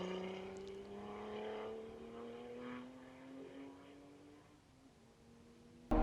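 Race cars at a BMW track day pass in the distance, their engines a rising, drawn-out drone that slowly shifts pitch and fades, with a sudden loud knock at the very end.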